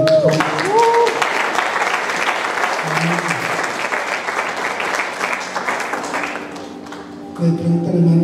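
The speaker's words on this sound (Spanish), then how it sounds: "un aplauso para los hermanos de Maricopa." A church congregation breaks into steady applause for visiting brethren, the clapping holding at an even level for several seconds before tapering off, with a preacher's voice heard at the start and end.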